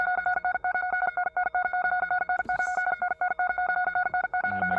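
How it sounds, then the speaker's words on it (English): A distorted electric guitar plays a loose, fast tremolo that pulses steadily like an alarm, a loud, rapid, even stutter of two sustained tones that runs alone throughout. "I just played it super loose on my guitar."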